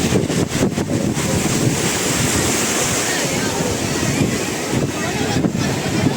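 Sea waves wash steadily onto Shivrajpur beach near Dwarka, a continuous broadband surf roar with strong wind buffeting the microphone, loud and close throughout with no voices.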